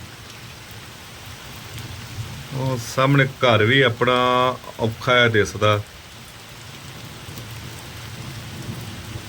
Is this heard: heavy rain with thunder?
yes